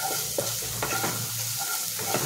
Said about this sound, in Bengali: 2 মিনিট একটু কষবো, বেশি সময় না, মাত্র 2 মিনিট।